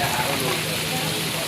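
Heavy rain falling outdoors in Rajasthan makes a steady, dense hiss of drops on surfaces, continuous and fairly loud throughout with no breaks.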